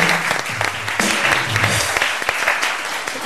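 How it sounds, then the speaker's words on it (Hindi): An audience breaks into brisk, dense applause, clapping steadily for a few seconds at close range, with no one speaking over it. "ये हिंदुस्तान के लिए मैं तालियां बजवा रहा हूँ"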